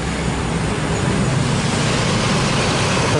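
Dense road traffic during the post-Lebaran return rush, with buses and a flood of motorcycles passing close in a steady, loud roar of engines and tyres and no talk.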